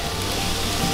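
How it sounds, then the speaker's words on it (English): Food sizzling in a pan at the start of cooking soup on a cold snowy day, a steady dense crackle and hiss filling the short moment on its own. "Sizzle, sizzle."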